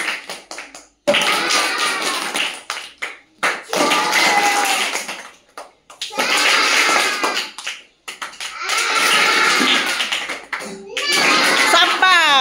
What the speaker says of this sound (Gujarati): સાબા તાળી પાડો ભાઈ, પડે એટલે તાળી પાડવાની